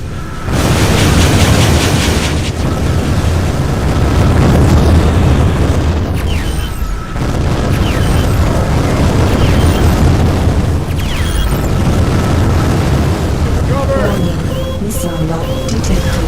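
Rocket explosions in a video game battle, loud deep booms and rumbling blasts that follow one another almost continuously, with brief breaks between bursts and faint electronic tones near the end.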